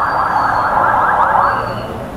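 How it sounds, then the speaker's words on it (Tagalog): An ambulance siren wails on a road near a Petron station in San Mateo, its loud, sweeping tone rising and falling steadily close by, with no voices over it. "Ito, may ambulansya na."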